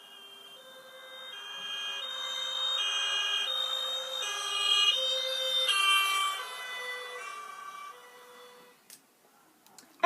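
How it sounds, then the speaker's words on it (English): A police car siren wails in a repeating two-tone pattern, growing louder as it approaches and then fading as the vehicle moves away, its pitch dropping on departure. "Listen to the police car as it comes towards us and then moves away again."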